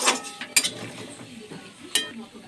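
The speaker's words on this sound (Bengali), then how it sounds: "এবার বড়িটাকে ভালো করে ভেজে নিচ্ছি" Lentil dumplings (bori) fry in oil in a pan with bay leaves and a dried red chilli, a soft sizzle under sharp metallic clinks of a spoon stirring against the pan.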